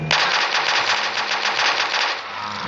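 Rapid continuous automatic gunfire from a gun mod in Minecraft PE, a dense unbroken burst of loud shots running for nearly three seconds with no talk.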